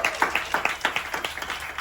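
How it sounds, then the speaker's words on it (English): Brief burst of applause from a forum audience aboard the cruise ship Carnival Conquest, a small crowd clapping in a loose, uneven rhythm, close and fairly loud. "Let's give them a round of applause"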